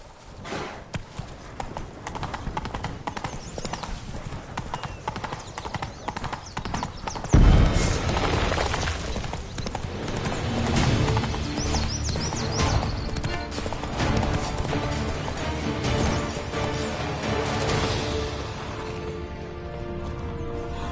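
Roach, Geralt's horse in the video game Witcher 3: Blood and Wine, clip-clops in a steady rhythm, then breaks into a heavy, fast gallop with a brief whinny over game music.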